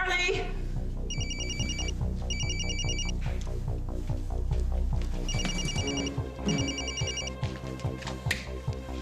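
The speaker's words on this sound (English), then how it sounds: "Did I hear my phone ringing?" A telephone rings with repeated double electronic trills in steady bursts over background music in a television drama scene, loud and close, with talking beneath.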